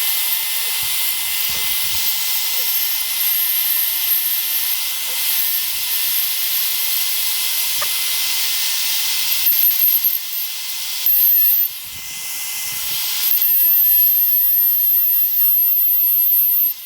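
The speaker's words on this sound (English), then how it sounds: "I'm going to go ahead and swap out the bits, get my depth gauge set to the proper depth so I don't go too deep, and I can route my channels out" A wood router cuts truss rod channels into a wooden guitar neck, a steady high-pitched whine and hiss running throughout, loud and close, with brief changes in pitch toward the end as the cut progresses.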